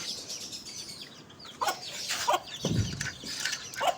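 Ducks leaving their pen at a mini zoo give scattered squawks and calls, a few short cries rising over a quiet outdoor background, fairly close and intermittent.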